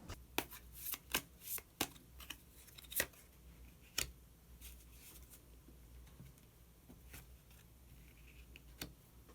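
Tarot cards being shuffled and drawn during a reading, a run of sharp, crisp card snaps and riffles in the first few seconds, then sparser flicks over a quiet room background with no talking.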